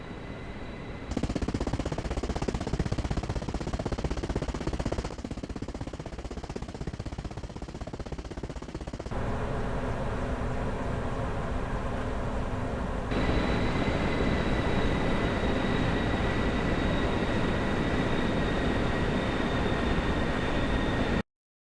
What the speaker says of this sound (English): created fitting experience when camera is inside helicopter